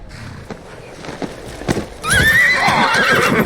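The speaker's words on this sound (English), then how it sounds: "Where'd the horses come from?" Horse hooves clatter along, then a loud, close horse whinny rings out over the galloping in the second half.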